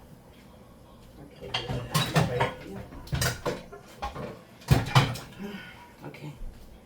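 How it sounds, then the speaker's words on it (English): A metal frying pan that held fried calamari is shifted across a home stovetop, giving several clanks and scrapes among other kitchen clatter, with a brief spoken word. "I'm going to move this pan over"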